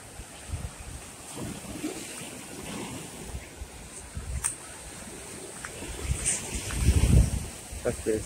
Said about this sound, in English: Hastings Beach on the south coast of Barbados